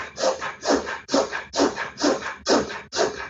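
Breath of Fire, a rapid pumping breath drawn in and pushed out through the nose, with seven strong rhythmic breath bursts about half a second apart, close and loud, with no talking.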